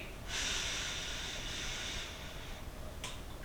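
Breathing in during a slow breathing exercise for low mood: a steady, airy inhalation of about two seconds through the nose, close and fairly clear, followed by a short sharp sniff near the end.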